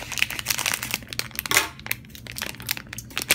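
Silver foil toy packaging crinkles and tears as it is cut open, a close, busy run of crackling rustles and sharp snips without any talk.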